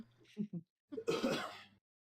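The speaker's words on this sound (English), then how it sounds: "We just blindly follow your sound of your cough in the snowstorm." A throat-clearing cough, a couple of short rough bursts followed by a longer harsh hack, close and fairly quiet.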